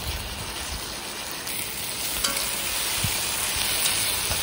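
Onions sizzle and fry in a pan until brown, a steady close crackling hiss with occasional stirring clicks and no talk.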